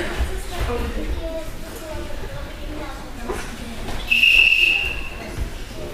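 A single sharp whistle blast lasting under a second rises over a murmur of voices and outdoor background noise.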